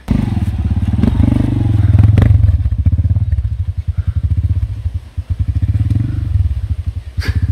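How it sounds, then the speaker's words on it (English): A motorcycle loaded with a very heavy bag of sand rides over a pipe and bumps, its loud, close engine chugging in a steady pulsing beat that dips and surges with occasional clatters and thumps. "We got Pasquale on his bike."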